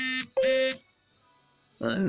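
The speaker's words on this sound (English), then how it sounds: "my phone's going nuts." A mobile phone buzzing with incoming notifications: two loud harsh buzzes in quick succession, a short quiet gap, then a third buzz, close and alone.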